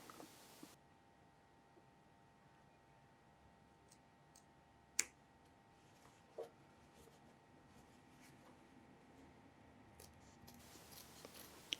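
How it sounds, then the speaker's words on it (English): Scissors snip fabric while cutting in a welt pocket: a couple of crisp, isolated clicks sit over a quiet hiss, with faint ticking between them. "Carefully snip from this point right up to the start of the stitching."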